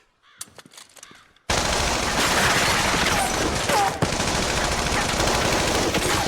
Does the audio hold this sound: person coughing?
no